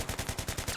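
Rapid automatic gunfire from the video game Battlefield 3, a steady burst of about eight evenly spaced shots, close and punchy.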